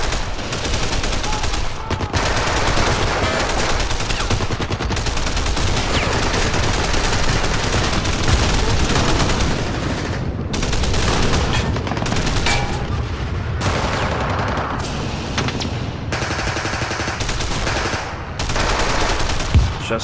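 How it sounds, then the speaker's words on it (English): Machine gun fire in the World War II strategy game Men of War, dense rapid bursts and continuous rattling with overlapping gunfire, loud and sustained across the whole stretch, broken only by brief gaps. "Those MGs have wiped out almost all the infantry that I used to assault it."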